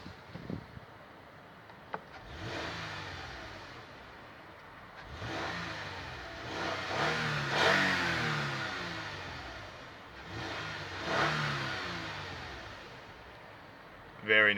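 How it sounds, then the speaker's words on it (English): A 2015 Toyota Sienna XLE engine is revved several times from inside the cabin, each rev swelling and falling back toward idle, with brief talk around them. "do a few revs, and see how it sounds."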